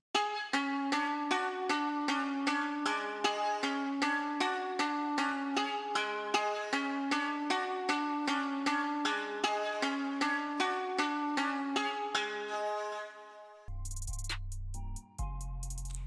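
A programmed beat pattern processed through EQ, compression and bit reduction, repeating a steady rhythmic loop of tonal hits for about thirteen seconds before switching to a brief burst of harsh, crushed noisy texture at the end.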